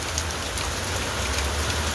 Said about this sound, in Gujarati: સિઝનનો પહેલો વરસાદ શરૂ થઈ ચૂક્યો છે